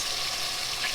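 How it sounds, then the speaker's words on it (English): Garlic hitting a hot pan while cooking a quick dinner gives a steady, close sizzling hiss that runs unbroken from start to finish, with no talking. "I'm going to throw my garlic in now"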